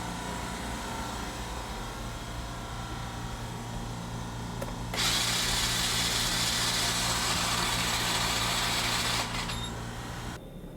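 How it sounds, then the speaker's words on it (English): An abandoned go-kart's small engine is spun over without firing, giving a steady mechanical whir that turns louder and brighter for several seconds in the middle, then drops back. "I'm gonna spin this motor over"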